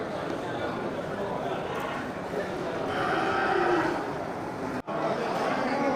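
A water buffalo from Aceh lows in long, droning moos close by, with a voice talking over parts of it and outdoor background noise.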